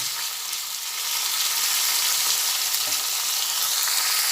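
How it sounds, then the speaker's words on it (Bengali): Vegetables for fried rice sizzle and crackle steadily in a hot pan, a constant hiss with no talking. "সবজিগুলো ভাজা হচ্ছে"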